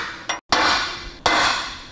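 A hammer drives a 3/4 inch transfer punch against a metal table leg on a DIY fixture table, giving two sharp metallic strikes with ringing decay, close and loud, with no talk.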